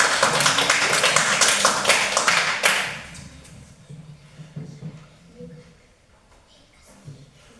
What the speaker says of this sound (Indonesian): kita tepuk tangan untuk kelompok 3